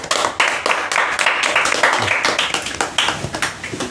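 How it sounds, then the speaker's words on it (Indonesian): Brisk applause from a group, steady rapid clapping filling the whole stretch with little pause. "Keren banget tepuk tangan."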